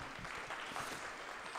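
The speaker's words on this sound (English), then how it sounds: "Can everyone give a PJ a round of applause?" Brief applause from an audience at a film showcase, a steady wash of many hands clapping through the whole short moment.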